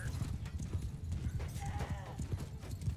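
Horse hooves clip-clop in rapid, dense rhythm from a cavalry charge in the Mount & Blade II: Bannerlord video game, loud and continuous with a brief neigh-like tone midway and no talk.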